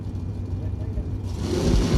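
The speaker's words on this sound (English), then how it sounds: "Big wheel stand out of the Camaro" A 1970 Camaro drag car launches off the line in a wheel stand at a bracket race, its engine roaring up from a steady rumble into a louder surge, partly under an announcer's talk.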